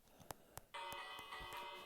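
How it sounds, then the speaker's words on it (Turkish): A household doorbell rings: a few soft taps come first, then a bright sustained electronic chime that rings on steadily until the end. "Ama güzel oldu zil işte."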